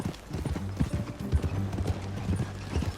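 Rapid, rhythmic clip-clop of horse hooves trotting steadily throughout, close and clear against a low background, in the video game Red Dead Redemption 2.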